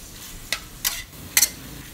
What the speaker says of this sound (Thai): แล้วก็ผัดต่อค่ะผัดคลุกเคล้าไปสักแป๊บหนึ่งนะ